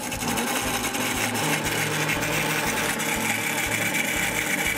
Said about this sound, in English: The sound of the blender is actually starting to tell me that this is getting nice and thick.